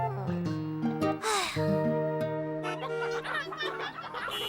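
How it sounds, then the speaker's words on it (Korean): Cartoon chickens that have escaped from a truck and block a road, clucking in short comic bursts of warbling squawks and rising cackles, fairly close, mixed with bright animated sound effects. "트럭에서 나온 닭들 때문에 길이 막힌 거였군요"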